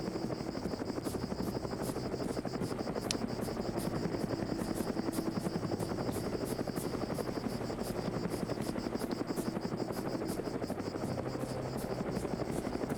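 A video game helicopter flies close by with a loud, steady rotor chop and a continuous buzzing whine throughout. It plays alone, with no talking.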